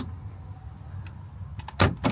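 A failing car door lock solenoid clicks and thunks in a few quick bursts after a quiet stretch, close by and fairly loud.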